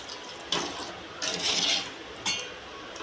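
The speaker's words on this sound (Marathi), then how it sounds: "थोडं पाणी टाकू कारण की आपण शिजवायचं आहे ते" Water splashes and trickles in short bursts into a cooking pot of chicken masala, close by, with a brief clink of metal between pours.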